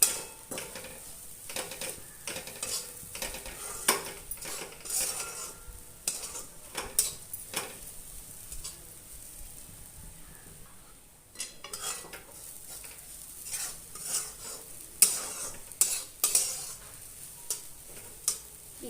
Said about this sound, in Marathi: हे हलवून घ्यायचं आहे.